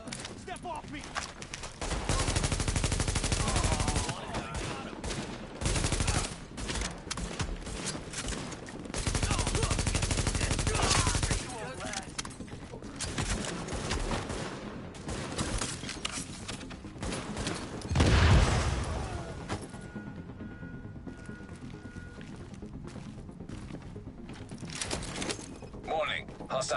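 Bursts of gunfire in The Division, a third-person shooter, come in loud stretches separated by quieter gaps, with game voices speaking in between.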